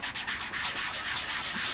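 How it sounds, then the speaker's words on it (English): Close-up rhythmic rubbing of a medium sanding stick against a small model ship part, quick back-and-forth scratchy strokes with no voices. "take our medium sanding stick now and just try and"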